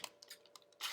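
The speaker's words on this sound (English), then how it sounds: "And so now I'm going to cut it." Ribbon for a Valentine's Day gift bow is cut with scissors: a quick run of crisp snips ending in one louder shearing cut, close and alone.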